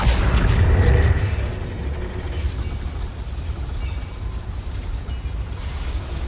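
Confringo explosion spell in the Hogwarts Legacy video game: a heavy low boom at the start that fades into a rumbling, mechanical mine-like ambience, loud and close with no voices.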